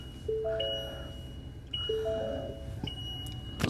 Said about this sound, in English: That bell will shut off here in a minute. Well, maybe not, because I don't have my seatbelt on.